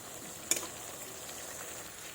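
Fried potatoes drop into hot oil in a pan with a brief soft clatter, then a steady, quiet hiss of sizzling continues. Nobody speaks.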